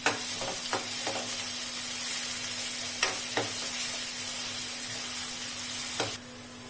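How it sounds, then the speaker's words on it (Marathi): Chopped onions sautéing in hot oil for a spicy egg curry, a steady close sizzle and frying hiss throughout, with a spoon stirring and scraping the pan in several sharp knocks before the sizzle drops off near the end. "कांदा आपल्याला व्यवस्थित असा परतून घ्यायचा आहे।"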